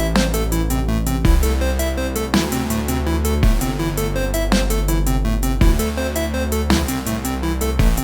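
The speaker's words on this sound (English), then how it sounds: "In context, the arpeggio sounds like this." Synth arpeggio played on Dream Synth, a bright, rapid repeating pattern of notes over a punchy low bass that changes every bar or so, loud and continuous with no voices.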